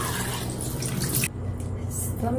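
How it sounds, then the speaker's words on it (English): Tap water runs steadily and splashes into a sink while someone rinses their face during a night-time skincare routine, then eases off briefly before the flow picks up again. "I'm going to rinse it with water"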